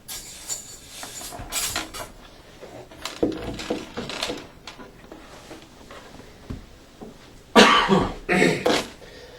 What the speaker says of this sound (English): I was fighting the cough that last go around